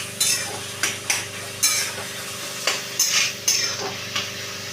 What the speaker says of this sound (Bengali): এইবারে আমি কচুর শাকটাকে ভালো করে কষিয়ে নিচ্ছি